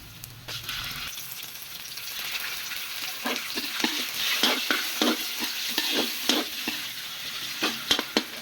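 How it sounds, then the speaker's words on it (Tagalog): Oil hissing in a hot pan with a continuous bright sizzle, broken by a series of quick scraping stirs that grow more frequent as it goes on. "Sa mainit na kawali, maglagay tayo ng mantika."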